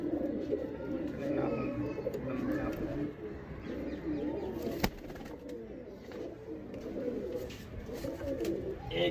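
Pigeons coo steadily and softly in the low range, belonging to a keeper's tall-perched flock on a Delhi rooftop, with background murmur and a sharp knock near the middle.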